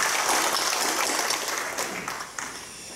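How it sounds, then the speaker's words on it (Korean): Audience applause fills a church hall during the worship service of a Seoul regional men's evangelical association general assembly, a steady, dense clapping that holds for about three seconds and thins slightly toward the end. "한번 박수 한번 드리겠습니다"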